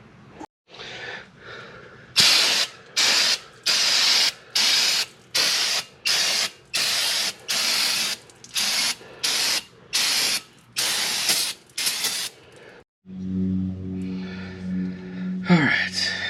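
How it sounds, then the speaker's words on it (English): Brake cleaner sprays onto the front brakes of a third-generation Camaro in a dozen or so short, loud hissing bursts with brief pauses between, followed by a clank and some handling noise. "let's spray this in brake clean"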